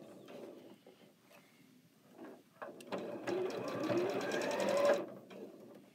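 A sewing machine stitches a quilt block at a slow pace. Quiet mechanical whirring and ticking start faintly, then build into a louder, steady run of rapid stitching for about two seconds before stopping abruptly.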